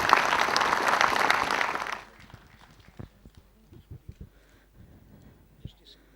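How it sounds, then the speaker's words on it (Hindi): Loud audience applause welcoming a guest of honour at a formal function fills the first two seconds, then breaks off into scattered faint claps and a quiet room. "ज़ोरदार तालियां हो जाएं"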